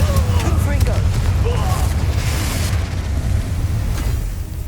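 Fiery spell explosions from Incendio and Confringo in Hogwarts Legacy, a loud continuous rumbling blast with deep booming low end and crackling bursts, layered under shouted voices.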